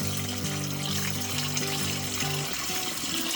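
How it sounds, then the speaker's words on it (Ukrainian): Water poured through a small strainer into a Gartner garden sprayer tank, a steady close splashing trickle that runs continuously with a low tonal hum underneath. "Наливаємо водичку через це ситочко."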